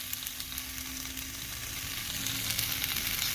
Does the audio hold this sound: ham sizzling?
yes